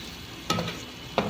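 Meat fries in a pan with onion, garlic and ginger, a soft sizzle under two quick stirring scrapes, close and fairly quiet.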